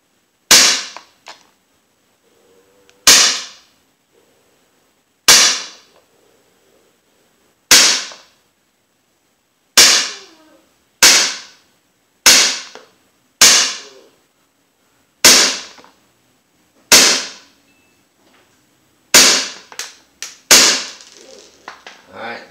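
Umarex Beretta M9A3 .177 air pistol fired at a target, about a dozen sharp, loud cracks spaced a couple of seconds apart with quiet between, the last few shots closer together.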